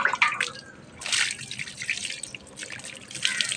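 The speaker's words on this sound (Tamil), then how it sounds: "ஊற்றி விடு தண்ணியை." Water is poured and splashed over an animal being bathed and scrubbed, with bursts of splashing and dripping between pours, close by, with faint voices in the background.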